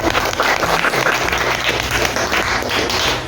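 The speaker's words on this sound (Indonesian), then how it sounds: "Sekali lagi beri tepuk tangan yang bersyukur." An audience at a teachers' dissemination event in Denpasar, Bali applauds, a dense, steady wash of many hands clapping at close range throughout.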